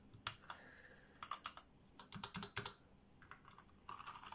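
Typing on a PewDiePie limited edition mechanical keyboard with textured keycaps: crisp, close keystrokes in quick bursts separated by short pauses, with no voices.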